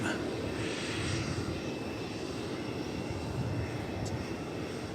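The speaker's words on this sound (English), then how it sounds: "this is a 20th century aircraft" Airliner at DFW Airport giving a steady, broad engine roar that holds an even level throughout, with no talk over it.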